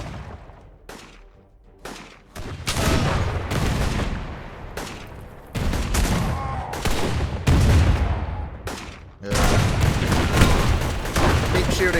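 Dense gunfire from warring airships in the strategy game Airships: Conquer the Skies, sustained volleys and booming bursts in several loud waves after a quieter opening, with no talk.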